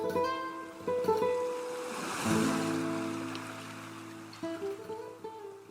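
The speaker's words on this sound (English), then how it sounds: "That sound of the waves as they break on the beach" Mediterranean sea waves wash and break on a beach in a steady, soft surge that swells midway, with a sustained musical tone running underneath.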